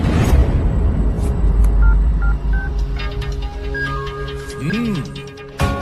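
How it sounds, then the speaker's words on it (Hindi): A phone tone plays a short sequence of electronic beeps and a rising-falling sweep over steady background noise, with voices murmuring underneath. "रिंगटोन अच्छी है।"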